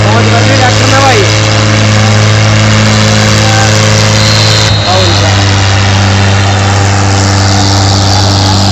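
A loud Mahindra 575 DI XP Plus tractor engine drones steadily with strong harmonic tones, shifting pitch midway as it revs, close and continuous.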